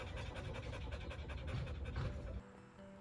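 A dog at an Oregon ranch and animal rescue pants rapidly and steadily, close and fairly loud, in quick breathy bursts that stop near the end.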